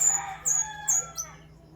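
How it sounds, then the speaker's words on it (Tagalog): A short series of high, chirping bird calls, three or four quick notes spaced apart, fairly clear over a quiet background hum. "Naguhuni na naman ang ibon"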